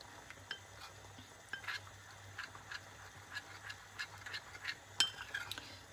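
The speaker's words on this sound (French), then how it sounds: "je vais remuer à nouveau la fécule parce que ça durcit" Potato starch is stirred into a gluten-free Savoyard cheese fondue in a pot over lowered heat, with soft, intermittent scraping and tapping strokes against a faint background hum.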